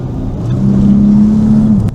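A Porsche Panamera with about 50,000 km, in for a front case oil leak, has its engine revved hard from inside the cabin, a steady rising drone that holds for about a second before dropping away, close and fairly loud.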